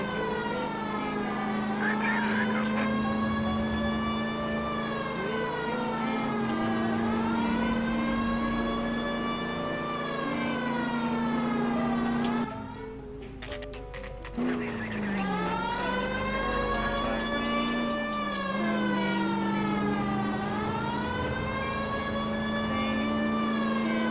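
A loud wailing police siren in the video game L.A. Noire, rising and falling continuously, briefly cut off by a short break, over a low steady engine drone.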